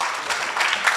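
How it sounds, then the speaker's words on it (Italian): Audience applause at an awards ceremony, a brief dense patter of many hands clapping together at moderate volume, with no voice over it. "Le facciamo due applausi."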